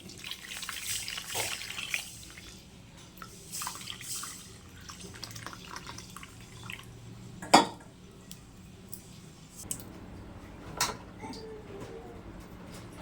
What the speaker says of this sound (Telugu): ముందు చింతపండు పులుసు వేస్తున్నాను